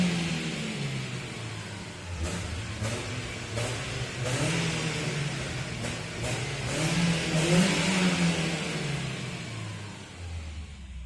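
A BMW 318i E46 four-cylinder engine revs repeatedly inside a small tunnel, its steady loud drone swelling and easing with sharp reflected bursts, heard alone without talk.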